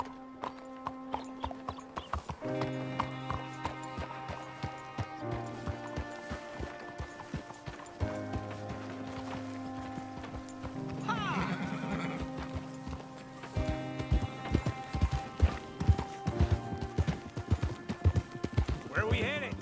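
A horse in Red Dead Redemption 2 whinnies and then clip-clops along in quick hoofbeats that build toward a gallop, with background music and a voice talking over parts of it.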